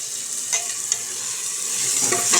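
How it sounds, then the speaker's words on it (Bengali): Masala spice paste frying in a pan while being stirred for a mutton curry, a steady close sizzle with a few scraping stir strokes, growing slightly louder toward the end. "এবার এই পর্যায়ে যে মশলাটা আমি বানিয়ে রেখেছিলাম ওটা দিয়ে দেবো, দিয়ে একটু ভালো করে কষতে হবে"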